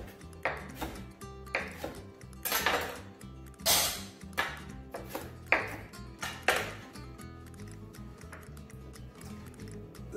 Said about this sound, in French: Là, on a coupé les tomates, les poivrons.